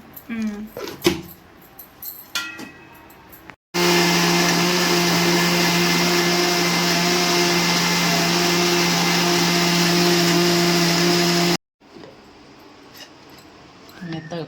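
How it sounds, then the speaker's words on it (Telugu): Mixer grinder grinding spices with a little salt into a paste for Telugu fish curry, a loud steady motor whine running about eight seconds, starting and stopping abruptly, with people talking before and after. "వీటిని అన్నిటిని గ్రైండ్ చేసుకోవాలా"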